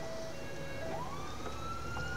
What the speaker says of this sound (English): going to change my sirens to allow people to know that we are coming